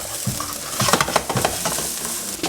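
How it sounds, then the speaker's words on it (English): Fresh ginger stirred into colorful vegetables frying in a pan for fried quinoa: a steady loud sizzle with repeated scraping strokes of a utensil, close up and without talk. "we're gonna add 3/4 teaspoons of fresh ginger. Mix that up."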